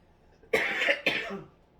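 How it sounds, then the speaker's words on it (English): Two harsh, close coughs in quick succession from a lingering cough, loud against an otherwise quiet background. "Yeah, this cough is lingering."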